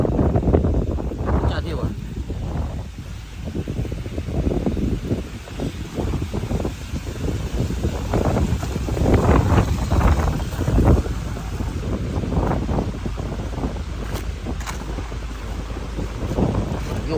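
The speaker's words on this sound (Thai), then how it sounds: "ลมหนาวพัดมาอีกแล้ว" Cold wind gusts outdoors at an event site where a stage is being set up, a loud rumbling buffet against the microphone with people talking throughout.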